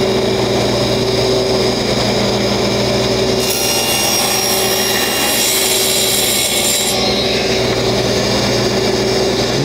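A table saw cutting a strip of finished cabinet laminate: a loud steady whine of the spinning blade, with a rougher, brighter grinding band as the material feeds through the middle of the cut.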